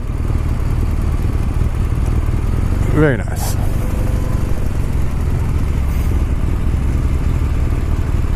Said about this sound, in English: there's a motorcycle behind